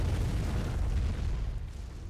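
Artillery shells exploding in the mech combat game MechWarrior 5, heard as a continuous loud, rumbling low-end roar of blasts across the whole stretch, with no talk.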